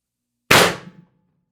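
A Pistelle X-68 airsoft pistol in a Storm Trooper build, running on preheated CO2, fires a single sharp, loud shot that cracks out of silence and decays quickly into a brief ringing tail.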